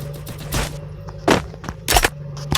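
Gunfire in a Free Fire battle-royale match: sharp bursts of shots, one early and then a cluster of louder cracks later, over a steady game hum.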